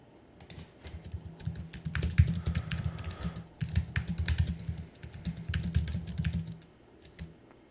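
Computer keyboard typing, quick irregular bursts of close clicking keys with short pauses, moderately quiet with no talk.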